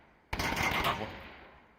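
Gunfire in the VR shooter Onward, heard in a competitive VRML match: a sudden loud burst of rapid shots begins after a brief quiet start, then trails off into a fading echo.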